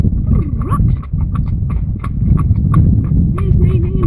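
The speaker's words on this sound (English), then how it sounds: "Here's Nini in her little trot." Nini the horse trots along, her hooves clip-clopping in a quick, even rhythm close by, with a person's voice in the background.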